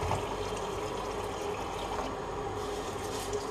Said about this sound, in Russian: Теперь наливаем воды.